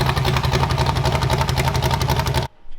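A 500-horsepower demolition car engine runs at a steady, loud, close idle with a rhythmic low pulse, then cuts off abruptly near the end.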